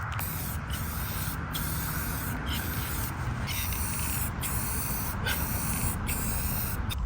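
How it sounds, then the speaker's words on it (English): A steady, continuous hiss of a spray paint can coating a Neo V2 bumper for a Lexus Altezza, broken by a few brief pauses between bursts, close and fairly quiet. "the can is spraying much cleaner as well"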